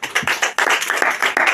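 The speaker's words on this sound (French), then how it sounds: "Nous pouvons applaudir notre Dieu." Close, loud hand clapping in a quick, uneven rhythm, like a church congregation applauding together during a service in a bright indoor room.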